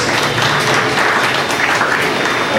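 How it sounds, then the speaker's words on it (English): Audience applause at a Disney Hollywood Studios harbour attack stunt show, a close, loud burst of steady clapping from a large crowd. "Let's give her a big round of applause"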